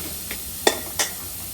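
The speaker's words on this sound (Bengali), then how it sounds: "পাতিলে আমি পেঁয়াজ দিয়েছি," Onions fry in a pot with a continuous sizzle, broken by two or three quick, bright stirring scrapes close by.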